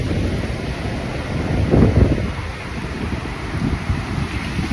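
Wind blowing outdoors, a loud continuous rumbling gust battering the microphone with a stronger surge midway and no voices.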